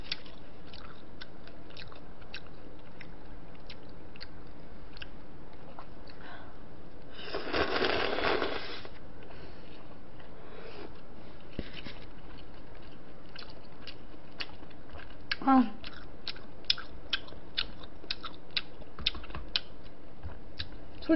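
Someone eats sweet and sour pork at close range, with soft intermittent bites and chewing clicks, one louder crunchy burst partway through and scattered small mouth sounds, no talking.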